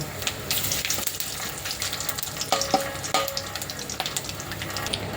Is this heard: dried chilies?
yes